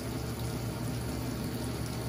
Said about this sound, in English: I'm gonna go ahead and run the water, make sure it's warm